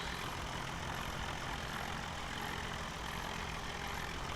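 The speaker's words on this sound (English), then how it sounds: "What a cool little tractor." A small tractor engine in Farming Simulator 17 idles in a steady, continuous low drone with an even mechanical hum and no speech.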